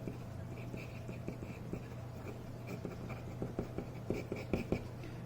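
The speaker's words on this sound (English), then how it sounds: "I'm just going to draw a box around these two" Quiet marker or pen strokes on a board as a box is drawn during a chemistry lesson, a series of soft scratchy taps over a low hum.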